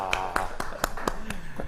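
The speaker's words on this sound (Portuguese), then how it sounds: "Todo mundo batendo palma aí, ó." A few scattered claps from people at a Portuguese-speaking meeting, roughly six or seven separate sharp hits spaced unevenly across a second and a half, near and moderate, with a low voice murmuring underneath.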